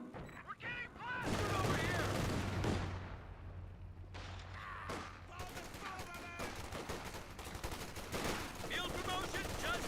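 Bursts of MG34 machine gun fire in the Company of Heroes 2 strategy game, rapid rattling volleys amid battle noise with a low sustained rumble, loud early then continuing as scattered shots under a commentator's voice.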